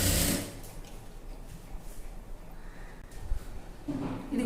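A sewing machine stitching thread piping around the round neck of a dress, a steady mechanical whir through most of the clip with louder bursts at the start and end.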